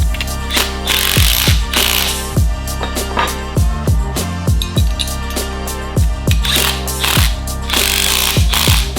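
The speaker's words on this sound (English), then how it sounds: "Got my wrench here, my gun to make things easy." Power wrench gun working 13 mm nuts on ball studs while fitting hood assists on a Ford Bronco, a loud close-up series of rapid ratcheting bursts in short repeated pulses with brief pauses between.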